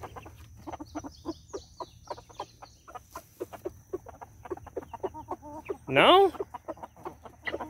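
Backyard chickens cluck in a quick run of short, close calls, with one louder, drawn-out squawk near the end, while a person speaks briefly over them.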